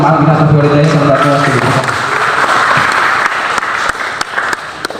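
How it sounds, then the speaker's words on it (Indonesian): An audience applauds a candidate at a student association leadership debate at Universitas Mbojo Bima. A voice speaks first, then loud, steady clapping from a crowd fills the room and gradually thins toward the end. "Sekali lagi berikan tepuk tangan untuk kandidat nomor urut 1"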